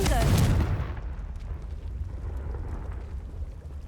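The Confringo blasting spell in Hogwarts Legacy, a loud explosive burst at the start that fades into a rumbling, crackling tail of debris.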